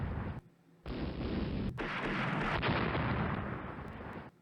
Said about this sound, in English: Start firing at him.